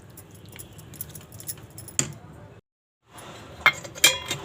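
Idli batter made with green peas (matar) is whisked in a bowl after a pinch of baking soda goes in, giving steady scraping and light metallic clinks, with a brief pause midway before the clinking resumes louder.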